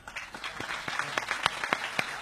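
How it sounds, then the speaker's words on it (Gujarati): Audience applause at a cultural music event in Surat after the Gujarati song "Mor Bani Thanghat Kare", a brisk burst of many hands clapping, fairly close and steady for a couple of seconds. "તાળીઓ આપણે ઝવેરચંદ મેઘાણી માટે પણ વગાડી"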